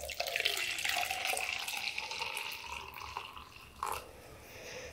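Hot tea is poured steadily into a flask, making a faint, continuous trickling and splashing stream at close range with no talking.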